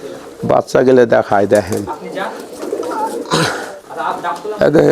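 Local Giribaj pigeons in a Rajshahi loft give deep, rolling coos close by, repeating in bursts while people talk over and between the calls.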